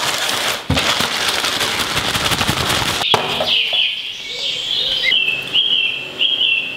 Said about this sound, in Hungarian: Csiripelnek a madarak.